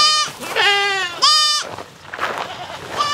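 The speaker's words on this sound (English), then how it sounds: "Hey, goats." Several loud, close goat bleats, wavering and nasal, in quick succession, followed by quieter rustling and another bleat starting at the end.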